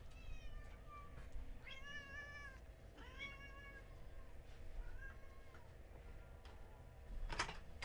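A house cat meows several times in a row: drawn-out, whining calls close by, with short gaps between them over steady low background noise.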